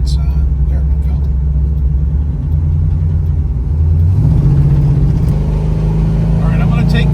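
A 1979 Pontiac Trans Am engine runs steadily while driving, with a deep low hum that shifts and swells slightly partway through as the car turns, under a person talking.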